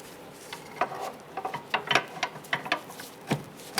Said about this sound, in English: we can go ahead and use a pry bar on the back side of the knuckle and our control arm